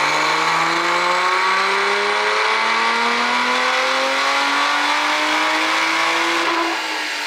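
A turbocharged Lotus Emira engine revs hard through a single long dyno pull on 93 octane, its loud, close tone climbing steadily in pitch for about seven seconds before easing off at the end.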